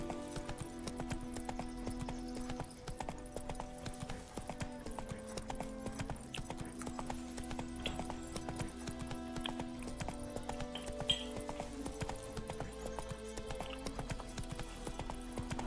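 Hooves of a galloping horse in the game Witcher 3: Wild Hunt, a rapid, steady clip-clop rhythm held for the whole stretch at moderate level over quiet in-game ambience and faint music.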